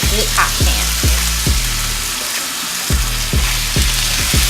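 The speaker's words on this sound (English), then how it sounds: "You want to hear that sizzling. That sizzling is what you want." Loud, steady sizzling of chicken frying in a hot oiled pan, with rhythmic clacks of a utensil stirring or scraping throughout.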